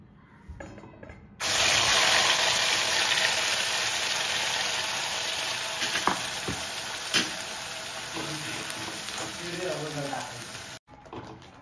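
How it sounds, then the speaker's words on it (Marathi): A kitchen mixer grinder grinding tomato and onion-garlic masala, a loud steady whirring roar that starts abruptly, runs for about nine seconds with a few knocks, then cuts off sharply. "तर आता टोमॅटो आणि मसाला वाटून घेऊया."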